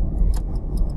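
A car's turn signal ticks in soft, evenly spaced clicks inside the cabin during a driving lesson, sitting over a steady low engine rumble.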